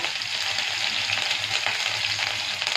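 Garlic, curry leaves and green chillies sizzle steadily in hot oil for a dried-fish chutney, a dense, close hiss with no break.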